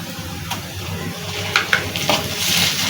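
Wet masala frying with onions in a pan for chicken masala curry, a continuous close sizzle with a few sharp spatula clicks and stirs scattered through.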